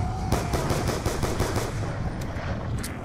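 Rapid automatic gunfire in Black Ops 2 Mob of the Dead, a loud continuous burst of evenly spaced shots over dense game noise, lasting a few seconds with no talk.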